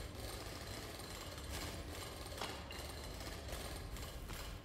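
Steady mechanical drilling from a mining drill in the game Drill Core, a continuous loud grinding drone with faint scraping bursts on top, running throughout without pause.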